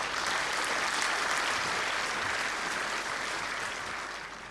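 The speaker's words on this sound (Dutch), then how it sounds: "Mag ik een applaus voor Peter Dreschler." Sustained audience applause, dense and loud clapping from a large crowd, slowly fading toward the end.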